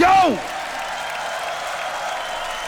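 A crowd at a beatbox battle breaks into applause and cheering after a brief shouted voice, the clapping holding as a steady, even wash to the end.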